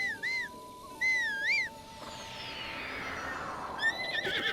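A horse whinnies in the video game Zelda: Breath of the Wild, with shrill wavering neighs early on and again at the end, separated by a sweeping whoosh over a soft ambient game background.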